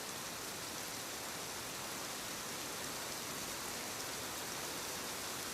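Steady rain falling on a night, a dense, even hiss of drops on surfaces that continues unbroken, loud and close with no voices or other sounds.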